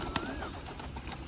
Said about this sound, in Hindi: और कुछ कबूतर ऊपर उड़ रहे हैं